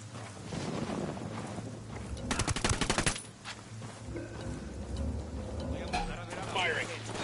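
Bursts of video game gunfire crackle amid wind-like noise, with a dense rapid volley in the middle and scattered shots around it, while people talk over the action.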